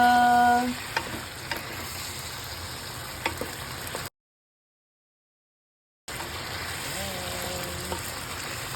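Butter, garlic and pork spare ribs fry in a pan with a steady, close sizzle and crackle throughout, broken by a short stretch of silence midway.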